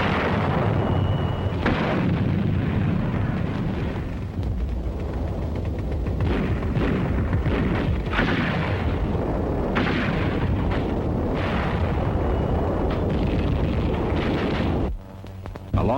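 Artillery fire from Chinese infantry and artillery units in 1945 Burma wartime footage, a dense, continuous roar of booms and blasts rumbling loudly and steadily throughout, with short dips in intensity.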